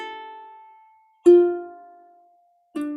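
Two plucked ukulele open-string strums ring out one after another, each chord sustaining and slowly fading, with a short gap of quiet between them.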